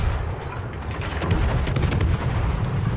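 Naval gunfire from a Tier 10 French destroyer battle in World of Warships, a dense continuous rumble of distant shots with sharper blasts in the second half, loud and steady with no talk.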